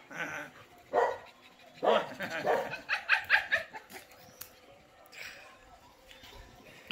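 An American Bully puppy plays with a border collie, giving a few short barks and yips in bursts amid scuffling, with people talking nearby.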